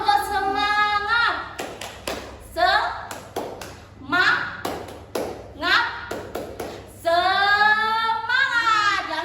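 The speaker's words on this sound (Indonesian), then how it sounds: "Tepuk semangat" Classroom 'tepuk semangat' spirit clap in a fifth-grade primary school science lesson: clusters of sharp, rhythmic hand claps alternating with a teacher's chanting voice, close and clear, in a repeating pattern.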